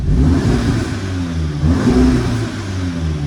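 An Audi S3 Stronic quattro with the 310 PS engine revs its exhaust in comfort mode, a steady, fairly subdued mid-pitched engine drone rising and falling with throttle blips, heard close and alone.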